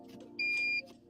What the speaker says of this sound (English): Now something's beeping in Connor's car.